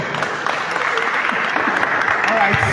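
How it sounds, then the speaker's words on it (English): An audience at a medical students' quiz club final gives a round of applause, a steady, fairly loud wash of clapping throughout. "audience, a round of applause for them"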